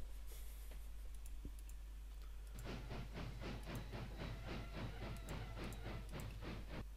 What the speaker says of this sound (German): Ein Dampfzug